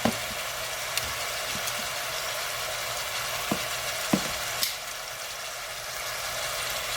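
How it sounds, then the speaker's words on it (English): Chicken thighs sear in a hot pan, a steady, close hiss of frying with a few light clinks and taps from handling, no voices. "what we're going to do is sear these off on both sides until they're nice and golden"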